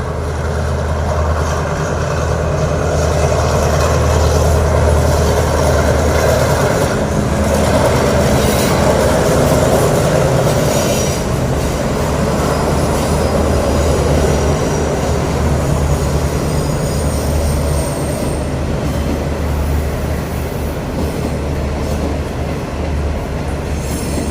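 An Alsthom locomotive, number 4116, hauls Rapid Train 169 from Bangkok to Yala into Krung Thep Aphiwat Central Terminal, with a loud, continuous close rumble of rolling wagons, rhythmic wheel clatter and occasional squeals.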